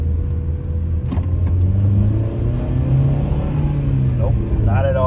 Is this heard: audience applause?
no